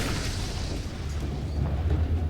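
Tank fire and explosions on a battlefield in XCOM The Bureau make a continuous, dense low rumble of booms with no clear gaps between them.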